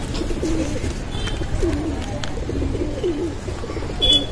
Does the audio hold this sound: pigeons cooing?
yes